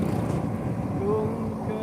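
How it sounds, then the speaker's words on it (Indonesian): Steady wind buffets the microphone while riding on the back of a moving truck, a constant low rumbling roar with a faint engine drone underneath. "kalau kedengaran suara anginnya harap maklum karena kita di atas truk ya."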